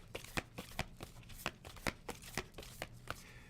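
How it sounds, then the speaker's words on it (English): A deck of cards being shuffled through by hand: a quick series of sharp, papery riffling flicks at an uneven rhythm, close and quiet, with no talking. "I just shuffle through the deck, and whatever card falls out is the highest priority."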